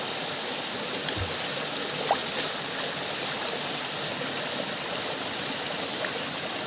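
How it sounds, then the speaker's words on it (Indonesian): Water runs steadily from a village water supply pipe at a transmigration settlement, a continuous close rushing stream with no pauses and only faint background sounds. "Ya, itu teman-teman airnya itu."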